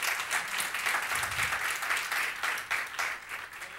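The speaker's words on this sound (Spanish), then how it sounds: "Démosle un aplauso al Señor." A church congregation applauds together, a dense, lively wash of clapping with a pulsing rhythm that stays steady and fairly close for the whole stretch.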